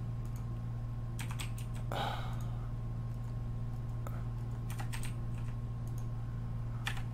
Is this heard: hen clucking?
no